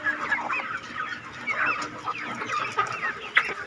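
Chickens and roosters clucking steadily on a small Thai farm, several birds close by with overlapping calls and no talk.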